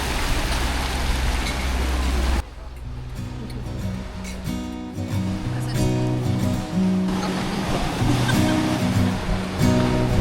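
Ocean waves rushing and washing against a sailing yacht at sea, a broad continuous surf noise that drops briefly, then returns under a low hum.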